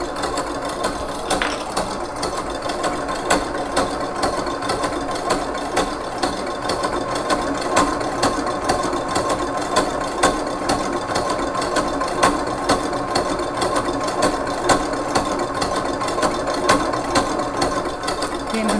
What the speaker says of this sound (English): to show everyone the gradual changes when we whisk the egg whites